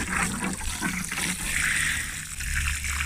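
Water poured from a hose or can onto a newly planted bare-root hazelbert nut tree, a steady trickling and splashing that runs continuously at close range with no talk.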